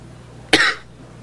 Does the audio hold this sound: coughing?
yes